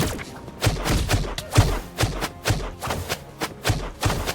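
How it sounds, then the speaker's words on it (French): Rapid bursts of video game gunfire, roughly two shots per second, each a sharp thumping crack, in a steady rhythm that continues throughout. "je tire hyper rapidement"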